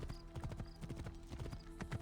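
Horse hooves clip-clop in a steady, rapid rhythm in Assassin's Creed Origins, close and loud, with a faint tonal drone underneath.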